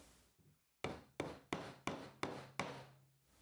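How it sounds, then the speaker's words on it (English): Six sharp hammer blows drive a spring wire into a pilot hole in a wooden block for a Mascall-style spring mousetrap, evenly spaced and loud, each strike ringing briefly with no talk. "put it in the pilot hole, and hammer it down"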